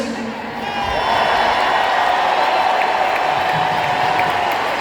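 A large concert crowd claps and cheers in a sustained roar that swells after the first second, with whoops scattered through it.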